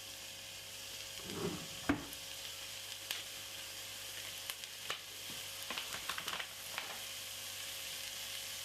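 Four cloves of garlic frying in a pan, a faint steady sizzle broken by scattered clicks and scrapes of stirring, heard close with no one speaking.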